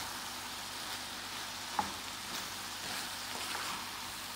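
Basmati rice and shrimp sizzle steadily in a hot pan, a continuous close frying hiss with one sharp scrape of stirring partway through and softer stirring rustles after.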